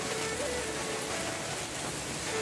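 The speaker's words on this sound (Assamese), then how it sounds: "এতিয়া বাহিৰত বৰষুণ দি আছে" Steady rain patters softly and continuously, a faint even hiss without pauses.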